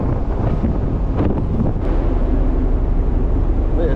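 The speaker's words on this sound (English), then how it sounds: "The wind is pretty strong" Strong wind buffets the microphone on the deck of an overnight cruise ship, a loud, continuous low roar with gusty rumbling and no clear voices.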